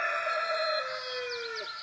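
A rooster on a farm crows once, a loud, close, drawn-out call that trails off, with no talk over it.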